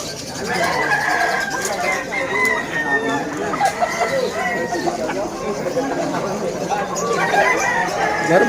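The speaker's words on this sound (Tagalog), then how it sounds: "Gandang manok oh" At the Malabon Hulo weekend pet market, a rooster crows repeatedly close by amid clucking fowl, while people talk and chatter throughout.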